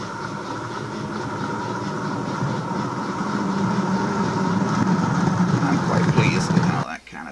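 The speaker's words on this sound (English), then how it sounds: "there's the train pulling out from there behind the Canopy" An N gauge model train pulls out past a station canopy on a layout, a steady close whirring rumble that slowly builds over several seconds before cutting off abruptly, with a voice talking over it.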